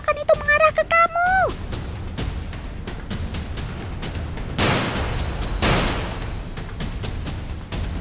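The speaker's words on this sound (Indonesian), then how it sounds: "Awas Bass, tembakan itu mengarah ke kamu" Cartoon gunfire: a rapid run of sharp shots with two louder blasts in the middle, following a brief burst of high, wavering whistle-like tones at the start.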